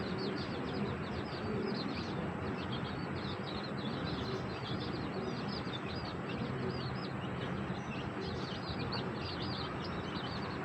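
Old-breed Giribaz pigeons on a farm, continuous soft cooing and chirping from many birds, with a steady low hum of the coop underneath, no speech.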